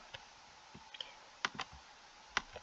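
Computer keyboard clicks as a website address is entered, a handful of scattered soft taps with irregular spacing, quiet and close, with no voice.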